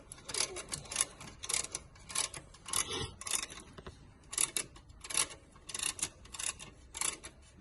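Ratchet wrench tightening a 12 mm bolt on a Toyota Corolla belt tensioner, a faint series of quick, close clicking bursts that repeat in short irregular runs.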